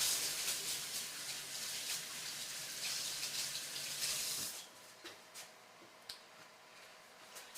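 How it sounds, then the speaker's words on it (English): A kitchen tap runs steadily while hands are washed beneath it, a close hissing gush that stops partway through, leaving faint splashes and drips. "I'm going to wash my hands."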